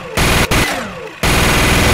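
Helicopter-mounted machine gun in Garry's Mod firing in loud, rapid bursts, broken by short gaps and a softer stretch, close and harsh.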